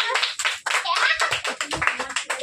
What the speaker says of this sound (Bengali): হ্যাঁ হাততালি